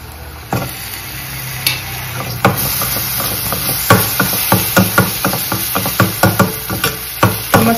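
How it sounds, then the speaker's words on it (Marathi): Ginger garlic paste masala frying in a pan, a steady close sizzle and hiss with frequent sharp scraping clicks as a spoon stirs it, no talking. "मसाला तर मस्त फ्राय झालेला आहे"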